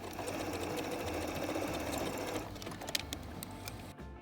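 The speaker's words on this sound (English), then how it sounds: "I sewed along the center bit of the lace" A sewing machine runs a basting stitch along the center of lace trim in a steady, continuous mechanical whir at close range, then slows and stops near the end.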